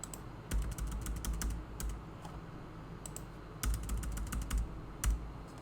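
Computer keyboard typing while writing Python code, in quick bursts of clicky keystrokes with short pauses between runs, close and fairly quiet, with no talking.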